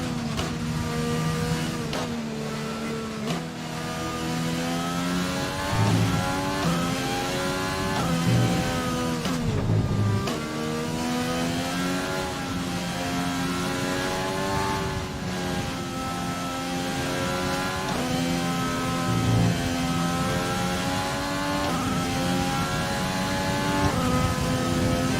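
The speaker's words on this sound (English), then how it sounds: "That is why you heard the cars." F1 race cars in the video game F1 2020 scream past with a continuous high-revving engine whine, pitch sweeping up and down through gear changes, loud and sustained for the whole stretch.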